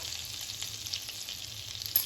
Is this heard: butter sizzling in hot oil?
yes